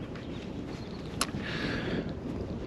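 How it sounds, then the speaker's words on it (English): Steady wind buffeting across the recording, a continuous low rumble with a brief gust swell midway and no speech. "I apologise if it's a bit windy at the moment"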